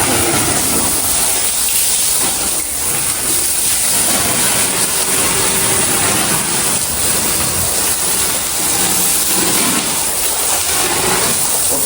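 Water pours and splashes steadily over cattle being bathed to cool them in hot weather, a dense continuous rushing hiss that runs without a break from start to finish.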